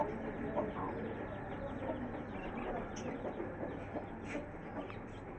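Aseel chickens cluck softly and intermittently close by, with faint rustling and low background noise.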